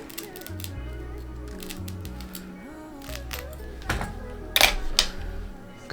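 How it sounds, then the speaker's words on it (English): Scissors snipping through the lace of an HD 13x6 full frontal wig, a few crisp clicks and cuts near the end over a steady low background hum. "I'm gonna take my scissors."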